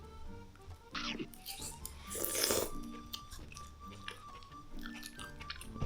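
Someone chewing and biting into food during a meal of jjimdak braised chicken, with close, moist crunches and smacks in irregular bursts and a louder crunching flurry midway.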